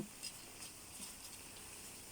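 Quiet, steady sizzling of slices frying in hot oil, a faint continuous crackle with no voices.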